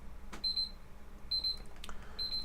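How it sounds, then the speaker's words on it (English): A kitchen timer alarm sounds three short bursts of high, bright electronic beeping, evenly spaced and fairly clear against a quiet room, with no talking. "All right, that's my timer saying,"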